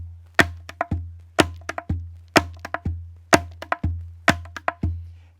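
A Hawaiian ipu gourd drum sounds the single pa beat: a resonant low thump from the gourd followed by crisp slapping strikes, repeated in even cycles, close-miked and alone.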